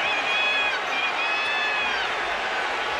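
Basketball arena crowd in an NBA game roaring and murmuring in a steady, dense wash as a scuffle breaks out on the court, with faint whistle-like tones over the noise.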